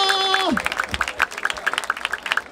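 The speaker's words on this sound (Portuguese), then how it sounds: "Palmas pra essa batalha!" At a rap battle, after a falling electronic tone, a crowd claps together in an even, quick rhythm, the beats close and fairly loud.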